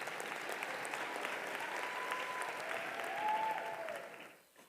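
A graduation audience at a university commencement claps in a full, continuous burst that swells briefly near the end, then fades out quickly.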